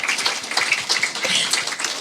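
An audience claps for a panel speaker at a report launch event, a dense, steady round of applause filling the room for a couple of seconds with no voices over it.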